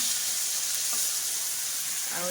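Prawns sizzle steadily in a hot pan for a home-cooked spicy lunch, a continuous close frying hiss with a faint stir near the end.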